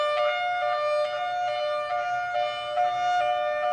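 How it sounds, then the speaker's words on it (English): A siren gives its high-low tone, sometimes used for fires, as a steady buzzy horn-like note pulsing in a quick regular rhythm. It plays alone at moderate level. "in a rare instance, there's a high-low sound, which is sometimes used for fires"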